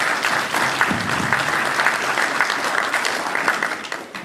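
Sustained, loud applause from a crowd at a graduation ceremony, honouring scholarship students. Dense clapping holds steady for several seconds with faint crowd murmur beneath.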